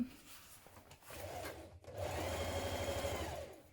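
A sewing machine stitches around the curve of a coat collar, running in a steady close hum that picks up after a brief pause and continues to the end.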